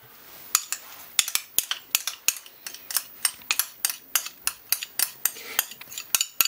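A utensil stirs yogurt into orange cake batter in a bowl, giving a quick, regular series of sharp clinks and scrapes against the bowl, close and clear with no talking.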